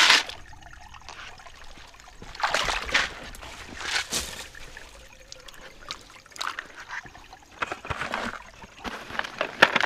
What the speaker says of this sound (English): I'm going to get this pan completely filled with material